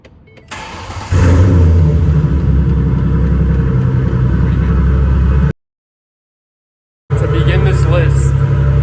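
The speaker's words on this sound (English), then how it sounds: "As you guys can hear from the cold start, it is a V6" A 2010 V6 Ford Mustang engine cranks and catches on a cold start, then settles into a loud, steady idle that cuts out briefly before resuming.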